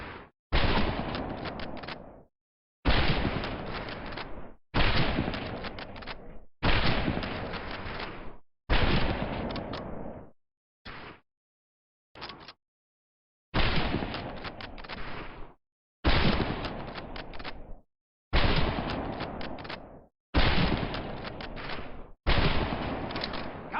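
Rifle gunfire on a firing range in Medal of Honor Pacific Assault comes in long, loud bursts of rapid shots, separated by short silent gaps, with a few single brief shots in the middle.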